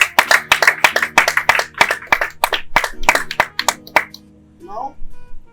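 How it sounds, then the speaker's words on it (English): A small group claps at a couple's 13th wedding anniversary celebration, sharp, close, uneven hand claps in a quick run that stop abruptly, followed by a short voice. "Another round of applause."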